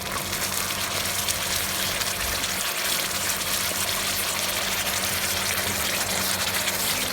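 Gochujang lamb rib sauce, sweetened with sugar, simmers in a pan on reduced heat, giving a steady, even bubbling hiss with a low rumble throughout and no voices.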